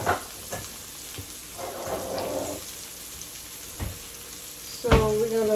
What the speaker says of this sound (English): then we're gonna fry another batch